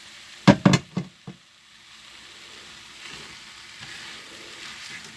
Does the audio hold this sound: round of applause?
no